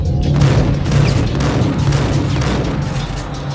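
Heavy, booming shotgun blasts in the Max Payne video game, from a sawn-off double-barrel shotgun, fire loud and close amid dense, continuous combat noise with several sharp impacts spread across the stretch.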